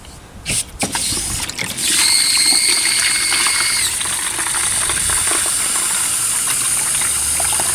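Water gushes and hisses as it is flushed through a plugged car heater core into a bucket, a loud, steady rushing flow after a few brief knocks at the start.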